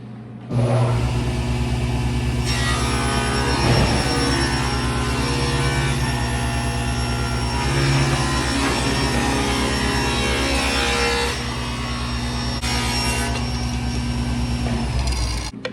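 A table saw rips solid wood stock down to a 1/4 inch strip for edge banding, the motor whining loud and steady while the blade cuts through for about fifteen seconds, with no talk.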